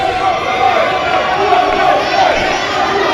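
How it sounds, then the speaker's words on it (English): A wrestling crowd roars steadily in support of Victor Castella, a dense, continuous wall of cheering and shouting that stays loud throughout with no clear individual voices. "And the crowd's getting behind Victor here."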